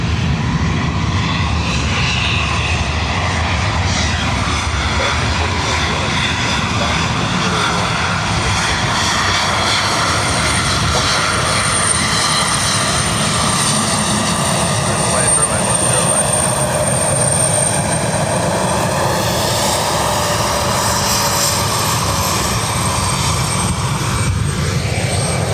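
A KLM airliner taxis and takes off at Dublin Airport, engines droning loud and continuous with a shifting whine, while people talk over the noise.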